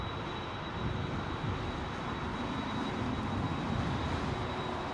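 A Delta aircraft with Pratt & Whitney engines at London Heathrow gives off a steady broadband jet roar, continuous and moderately loud with a faint high whine, and no voices.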